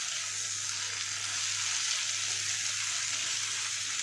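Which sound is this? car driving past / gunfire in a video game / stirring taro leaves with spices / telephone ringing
stirring taro leaves with spices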